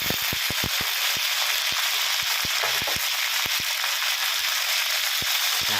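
Cabbage stir-frying in a pan with canned fish, a loud, continuous sizzle with frequent crackling pops and sharp clicks throughout, close up.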